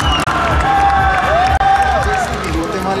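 Roaring applause and cheering from the pageant audience at the Miss Guatemala 2010 crowning, continuous clapping with excited shouts and a sustained high cry rising over the crowd.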